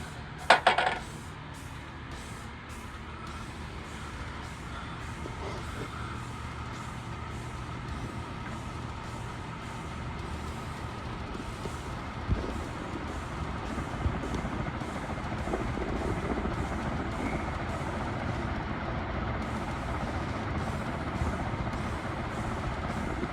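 An HRS industrial ceiling fan, union/evergo made, runs steadily after a sharp clatter at startup, giving a continuous low whirring drone with faint rhythmic pulsing that builds slightly over time, heard alone without talk.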